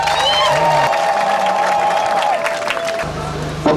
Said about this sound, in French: je demande à ce que vous l'applaudissez frénétiquement